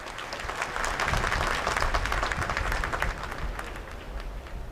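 Applause from a large audience after a book release at a presidential ceremony in Ayodhya, a broad rolling wash of clapping that swells and then eases, somewhat distant.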